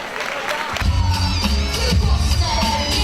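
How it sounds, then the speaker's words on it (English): A crowd at a charity street-ball basketball classic claps and cheers in a busy indoor gym, a loud, sustained swell of noise with shouts and voices mixed throughout. "Clap it up for Charlie one more time"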